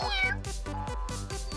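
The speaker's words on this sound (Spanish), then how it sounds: "¿Quién está maullando?" A kitten in an animated cartoon meows close and clear, one drawn-out cry followed by a run of short, evenly pulsing mews.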